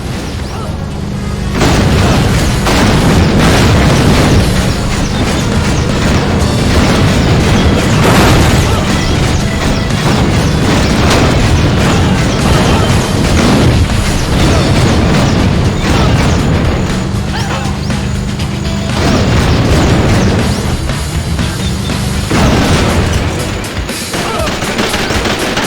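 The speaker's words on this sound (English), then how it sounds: "Beautiful, beautiful explosions everywhere." Loud, continuous barrage of explosions and booming blasts from the tank battle game World of Tanks Blitz, with repeated heavy impacts and crashes filling the mix nearly nonstop.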